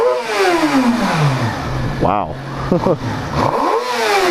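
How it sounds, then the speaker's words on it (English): A 2013 Suzuki GSX-R 600 sport bike on its stock exhaust revs hard several times, each blip rising sharply and falling back between bursts, loud and close, while a voice exclaims briefly over it. "Give you guys some revs here though."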